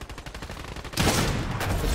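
Rapid gunfire in Fortnite, a quieter burst of repeated shots followed by a louder, denser volley of fire near the listener in the second half.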